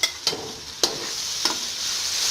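Okra fries with tomato and green chili in a pan, a steady sizzle broken by three sharp spoon-scrapes of stirring at roughly even intervals, close and alone without talk.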